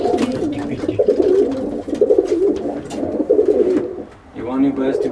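Tame pigeons coo steadily in a loft during an evening check, soft repeated throaty calls running close throughout while someone talks over them.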